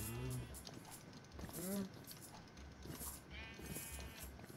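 Cows moo in the video game Minecraft, a few drawn-out, wavering lowing calls spaced apart over a steady hiss of background game noise.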